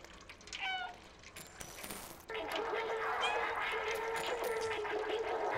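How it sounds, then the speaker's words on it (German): A cat meows in the video game Stray. There are a few short meows near the start, then a burst of bright, buzzy electrical crackle takes over and holds steady and fairly loud. "Das Miauen macht irgendwas hier mit dem Strom."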